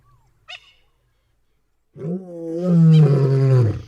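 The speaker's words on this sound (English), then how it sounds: "this time with the sound of lions roaring in the background" Lions roaring at sunset in the Central Kalahari, Botswana: a short faint call, then after a pause a loud, close, drawn-out roar with deep rumbling tones.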